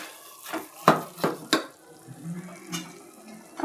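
Dough for Mysore pak being stirred with oil in a pan, a handful of sharp scraping and slapping strokes spaced irregularly, with a soft sizzle running underneath.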